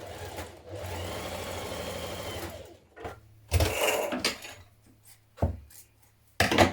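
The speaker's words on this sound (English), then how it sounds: "Flip it over like this so it's right sides facing, and stitch that seam in place." A sewing machine stitches a dress facing seam at the shoulders in several short runs of close, whirring motor hum, broken by pauses and fabric handling.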